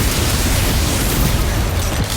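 Confringo blasting spell from a Harry Potter video game, a continuous dense roar of explosive noise filling the whole short stretch at steady high loudness, with no clear gaps between bursts.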